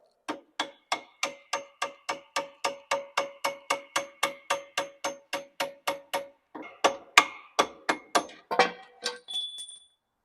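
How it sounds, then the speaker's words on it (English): A small screwdriver is hammered through a part of a Royal Enfield Bullet 500 motorcycle. Sharp metallic taps ring out close and evenly, about twenty of them, then turn faster and more irregular near the end. "I'm just going to use a small screwdriver to punch it all the way through."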